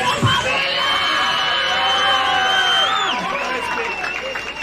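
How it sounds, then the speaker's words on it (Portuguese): A crowd at a street rap battle cheers, whoops and shouts loudly and without a break, with some scattered applause. Voices rise over the noise. "Uma salva de palmas"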